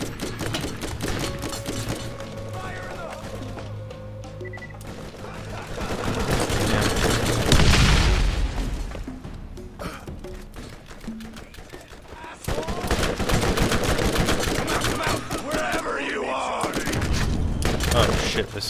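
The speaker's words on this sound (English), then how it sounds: "Oh shit, they're firing at me." Enemy gunfire in the Borderlands video game, a dense run of fast shots and booms close by, swelling midway and again near the end, with some talk mixed in.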